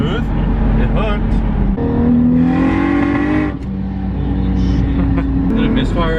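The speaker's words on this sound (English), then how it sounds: "Misfire right there." A turbocharged BMW engine pulls hard with a loud rising roar from inside the car, stumbling briefly in a misfire midway, while someone talks over it.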